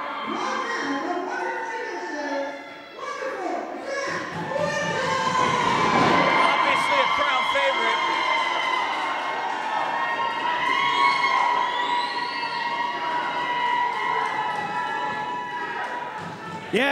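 A wrestling crowd cheers loudly for Zack Winters, a sustained roar of shouts and whistles that swells and holds, with talk mixed in over it.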